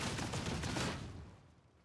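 A Warhammer 40K: Darktide bolt gun fires a fast, dense burst of heavy booming shots that blur together, then the sound tails off into a fading echo over the last second.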